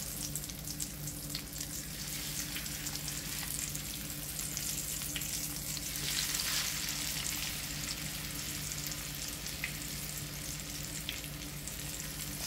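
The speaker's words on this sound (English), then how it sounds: "Put them back in the pot and let them get that golden, crispy and golden." Green plantain slices fry in a pot with garlic over medium heat, Jamaican style, giving a steady, close, dense sizzle that runs continuously throughout with no talking.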